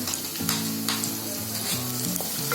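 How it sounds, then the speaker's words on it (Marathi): Sliced onion with chili and ginger sizzles steadily in hot oil, a close, constant frying hiss with occasional stirring scrapes and no one speaking. "चांगला कांदा चांगला फ्राय व्हायला द्यायचा"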